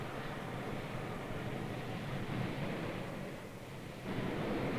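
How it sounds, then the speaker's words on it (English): Ocean storm waves breaking send up a broad, steady roar of surf, loud and constant with a brief dip before it swells again, no voices. "Great storm waves like these are found where they're blowing for a long time, at high speeds, in the same direction"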